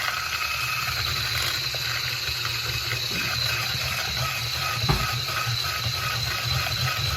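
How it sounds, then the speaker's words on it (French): A steady, dense mechanical whir runs unbroken as brookie batter is whisked, likely with an electric whisk, with a faint clink near the end. "et maintenant on va fouetter tout ça"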